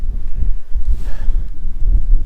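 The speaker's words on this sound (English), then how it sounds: "Oh, and this wind." Strong wind on the mountaintop of Spruce Knob, West Virginia, roars and buffets close to the microphone in a loud, continuous low rumble.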